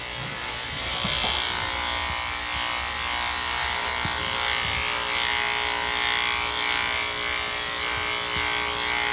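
Electric dog clippers buzz steadily while blending a dog's coat during a low-maintenance buddy-cut trim, a close, continuous motor hum that shifts slightly in pitch as the blade moves through fur, with no talking.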